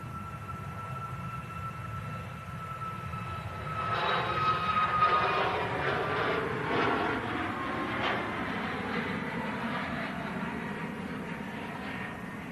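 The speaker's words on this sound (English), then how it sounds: "Next departure, we have this Ryanair." A Ryanair jet airliner departs Manchester Airport, its engine roar swelling from a steady distant rumble to a broader, louder rush mid-way and then holding as a sustained, moderately distant drone.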